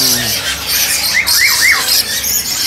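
A few quick rising, warbling calls of a Javan barbet ring out over a noisy, hissy background at a bird market, clustered within about a second.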